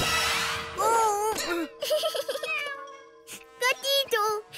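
A cartoon cat gives several wavering, high meows in short bursts separated by pauses, clear and close, in a Spanish-dubbed children's animated show.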